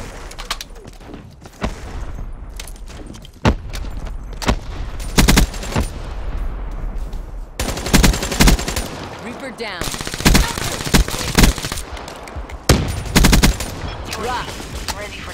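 Rapid bursts of gunfire in a multiplayer shooter video game match, loud and close, with clusters of shots and single cracks repeating across the whole stretch, a voice speaking now and then between the volleys.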